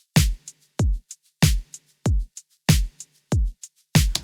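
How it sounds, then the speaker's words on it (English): Programmed 80s-pop and 70s-disco style drum groove: punchy kick and snare hits in a steady alternating pattern, with crisp hi-hat ticks and a soft shaker filling the gaps, loud and dry with no voices. "in the first half, we have the kick, the snare, the hi-hat, and then the shaker."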